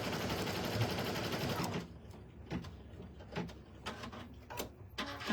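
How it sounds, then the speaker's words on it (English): Rapid industrial sewing machine stitching whirs loudly, then stops abruptly, followed by scattered clicks and light mechanical taps in a quieter room. "Even on my industrial sewing machine"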